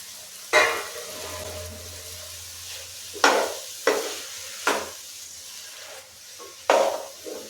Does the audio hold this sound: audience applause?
no